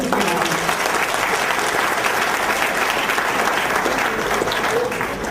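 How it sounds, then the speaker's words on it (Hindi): Audience applause at a Hindi poetry recital, a full, even burst of clapping from a crowd that holds steady and loud for the whole stretch. "एक बार आप मेरे सम्मान से तालियां बजा"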